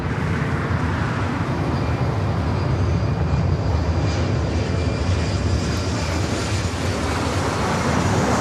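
A heavy United jet roars loud and continuous on its takeoff roll from runway 24 left at LAX, a broad rumbling engine sound that fills the whole stretch without any voices.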